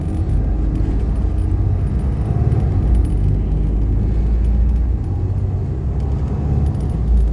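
TransBunbury route 827 bus rolling slowly over bumps, a loud low rumbling engine drone with rattles and jangling from the cabin, continuous and close throughout, no voices.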